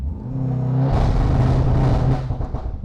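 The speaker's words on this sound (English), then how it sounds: "So let's show you how launch control is performed." A 2019 VW Golf R with a Stage 2 tune holds launch control at full throttle with the clutch in. The engine drones steadily, then swells into a loud, close, sustained roar, with no talk.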